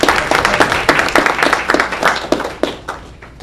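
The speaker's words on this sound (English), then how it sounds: "Applause, please." A small group at a school board meeting claps briefly and close by, uneven individual hand claps forming a short, fairly loud round that tapers off within a few seconds.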